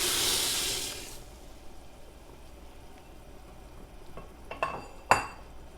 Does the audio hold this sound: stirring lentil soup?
yes